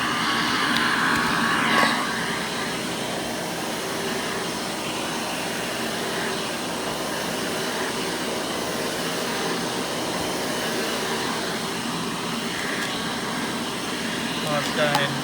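A factory-rebuilt Hoover Elite 600 vacuum cleaner runs with a loud, steady whirring motor drone that holds unbroken throughout, with only slight bumps in level near the start and end.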